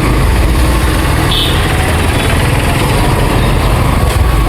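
Motorbike engines, among them a Yamaha FZS, idle close by, a loud steady rumble with a buzzy, rattling texture that holds unchanged throughout.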